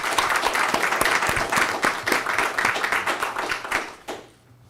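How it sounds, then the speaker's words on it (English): A school board meeting audience applauds two honored staff members, a dense run of hand claps that thins into a few scattered claps before stopping. "Please join me yet again in giving a round of applause to Mrs."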